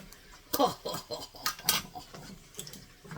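A spoon stirs sausage and yellow squash in a pot, giving quick clinks and scrapes against the metal at close range, broken into short bursts with brief pauses.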